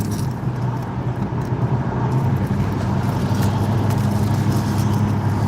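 Steady traffic roar of cars passing at night on a city street, with a dense, continuous low rumble of engines and loud mufflers and no clear gaps, heard alone without talk.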